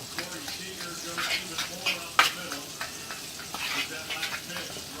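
Butter heats in a pan with a close, steady sizzle, broken by scattered spatula clinks and one sharp knock midway; faint voices murmur at times.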